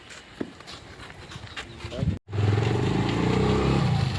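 A motorcycle engine roars up close and loud after a stretch of people talking with rustling noise, its rumble filling the last two seconds.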